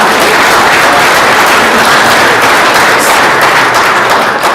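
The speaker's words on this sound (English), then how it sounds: "Yes, let's clap for them." A school audience of parents and grandparents claps steadily at a student new venture competition, a dense wash of applause filling the room for the full stretch without breaks.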